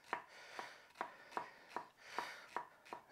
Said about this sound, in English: if you want to just cut some like this